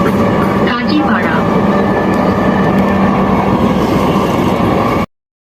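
Dhaka metro rail train running toward Motijheel, a steady loud rumble of wheels and carriage noise throughout, with a brief squeal near the start, heard from inside the car.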